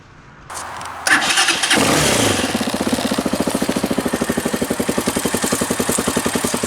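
A TBR7 motorcycle's electric starter cranks briefly, then the engine catches and settles into a loud, fast, even idle putter, close up.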